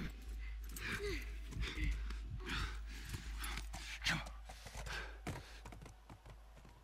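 A horse's hooves clip-clop and gallop in The Last of Us Remastered on PS4, a rhythmic run of hoofbeats heard faintly under game dialogue and a player talking.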